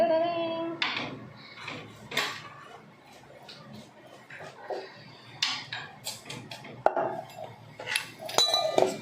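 Spoon clinking against dishes while preparing a salad, a series of sharp close metallic clinks and taps at irregular intervals, with quieter handling noises between them.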